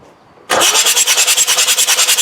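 A Land Rover Defender 2.5 naturally aspirated diesel engine cranks over on the starter, a loud, steady rhythmic churning with regular pulses that kicks in abruptly after a moment of near silence and keeps turning without catching.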